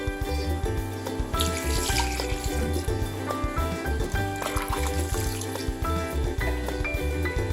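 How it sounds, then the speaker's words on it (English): Tap water runs into a pot of salted water for blanching fresh anchovies, a steady rushing stream that continues throughout, heard alongside other kitchen noise and a louder background layer. "Add more water."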